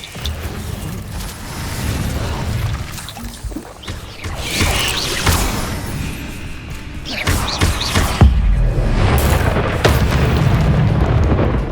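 An Incendio fire spell cast in Hogwarts Legacy, amid a fight with spiders, erupts as repeated whooshing bursts and booming thuds over a steady game backdrop.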